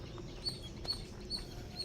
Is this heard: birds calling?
yes